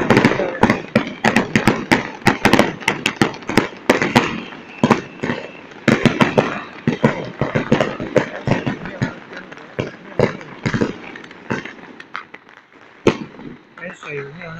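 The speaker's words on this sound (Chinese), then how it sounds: "就放鞭炮，放烟火，放鞭炮，放那么久。" Long string of firecrackers and fireworks at a temple procession festival for the Lantern Festival in Yanshui, dense rapid cracking bursts going on without pause, loud and close, with voices mixed in.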